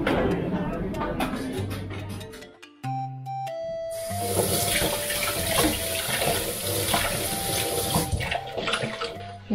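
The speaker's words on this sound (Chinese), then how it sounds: "现在在帮我姐姐洗碗" Tap water runs steadily into a kitchen sink while dishes are washed at home, a continuous splashing stream with brief clinks and interruptions, heard under occasional talk and light background music.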